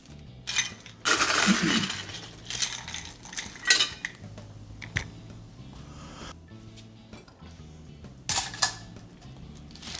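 A low-carb keto summer cocktail is strained over fresh ice into a glass, giving bright clinks and rattles of ice against glass in several bursts with quieter handling sounds between, close and fairly loud.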